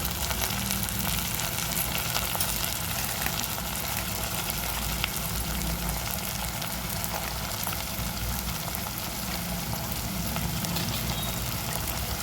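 Brinjal pieces fry in a pan for a brinjal and green pea curry, giving a steady, dense sizzle that runs unbroken and fairly loud throughout, with no voices over it.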